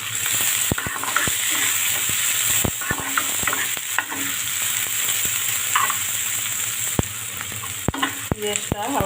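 Chopped onion and green chili fry in oil with whole cumin, bay leaf, cinnamon and cardamom for a rohu fish curry, a steady close sizzle broken by sharp, irregular clicks and scrapes of a spatula against the pan.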